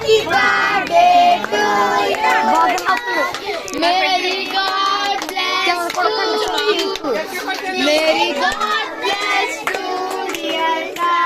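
People clap at a child's birthday cake cutting, a steady patter of hands beneath loud overlapping voices and chatter from the gathered family.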